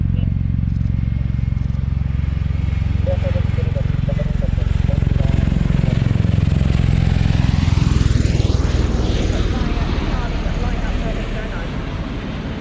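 A German Army aircraft runs up its engine on runway 09 at the Royal International Air Tattoo air show, a loud steady drone that rises and shifts in pitch, with voices talking over it.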